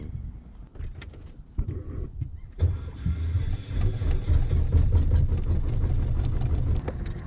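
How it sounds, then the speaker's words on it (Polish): A small boat engine cranks and catches, then settles into a steady low running rumble, close and fairly loud over a hiss of wind and water. "Odpalamy silniczek"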